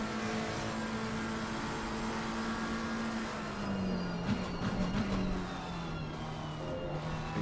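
A Ferrari GT3 race car engine drones steadily at Monza in a sim racing game, a sustained humming whine that dips slightly in pitch midway and then recovers, heard alone with no talk.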